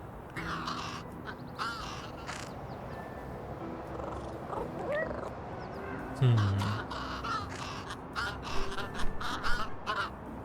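Crows caw repeatedly in the video game Little Kitty, Big City, harsh calls coming in bursts over a busy outdoor game ambience, growing louder and more clustered toward the end.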